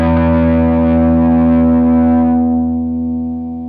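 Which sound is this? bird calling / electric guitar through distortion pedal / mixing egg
electric guitar through distortion pedal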